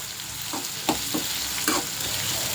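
Finely chopped onions fry in hot oil in a pan for lemon rice, giving a steady, close sizzle broken by a few scraping stirs of a spoon, with no speech.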